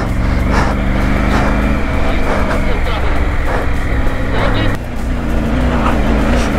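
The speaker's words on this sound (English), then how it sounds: "I'm in the first now. Let it rev and we'll keep going." A Triumph Tiger motorcycle revs in first gear while climbing a mountain trail toward Umling La. Its loud, close engine drones steadily with rhythmic pulses, dips briefly and then rises again.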